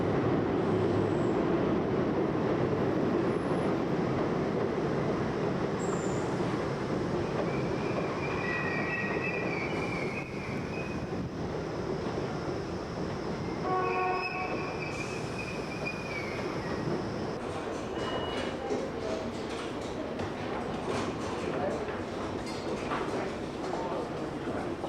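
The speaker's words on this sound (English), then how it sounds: "This is Queensboro Plaza transfer for the number 7 train across the platform." A number 7 subway train at Queensboro Plaza station rumbles and screeches, with wheels squealing and rails clattering over a long continuous roar, and a muffled announcement-like voice partway through.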